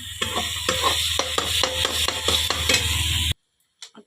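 Ground coconut paste is stirred into dry mutton in a pan on a wood-fired chulha, making steady rhythmic scraping and sizzling strokes for about three seconds before stopping abruptly into near silence.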